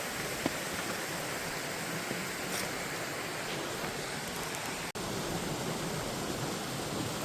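Narmada river water rushing at Dudhdhara falls, a steady, dense roar that holds unchanged throughout, with only a single faint click partway through and no voices.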